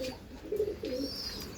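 Pigeons of a high-quality breed being delivered near Kolhapur coo softly and close by, with a couple of low, throaty coos around the middle over a quiet background and no talking.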